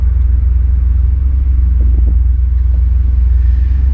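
Steady low engine rumble from a truck cruising down the road, heard from inside the cab with constant road and wind noise and no speech.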